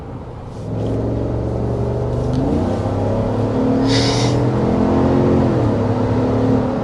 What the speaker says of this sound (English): we're speeding up to 55 miles per hour